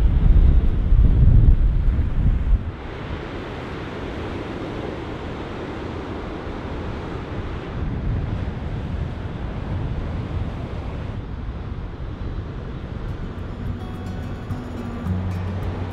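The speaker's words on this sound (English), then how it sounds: "On the other side of the village lies the ocean and some really wonderful and spectacular beaches." Ocean surf breaks and washes continuously on a beach along the Oregon coast, a steady loud roar with a heavier rumble at the start and wind buffeting the microphone.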